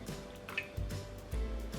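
Milk splashes into a well of flour with an egg, giving a few soft, close liquid plops and drips over a brief moment.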